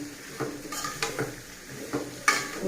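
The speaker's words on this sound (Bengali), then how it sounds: "হলুদ দিয়ে একটু ভেজে নেব।" Turmeric frying in a pan for a vegetarian papaya, potato and mung dal dish, with a handful of clinks and scrapes of a spoon against the pan over a low sizzle.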